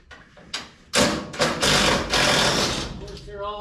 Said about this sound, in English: Start taking these bolts loose,